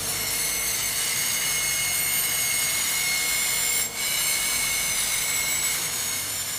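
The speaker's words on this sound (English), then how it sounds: "The sharpening department is the most technologically advanced area of the facility, where diamond-coated grinding wheels create cutting edges." Diamond-coated grinding wheels sharpening razor blades in a Gillette factory produce a loud, constant high-pitched mechanical whine with a steady industrial roar underneath, unbroken apart from one momentary dip.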